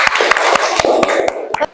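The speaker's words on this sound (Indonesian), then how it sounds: "Bisa tepuk tangan semuanya." An audience applauds at a teacher-training class session, with sharp scattered claps forming a short, fairly loud burst of clapping that stops abruptly near the end.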